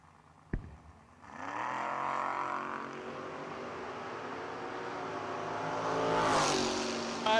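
Drag race launch of a 1995 Mustang and a 1997 S10 at a footbrake bracket event: a sharp bang, then a loud sustained engine roar that swells and peaks near the end, with no talk.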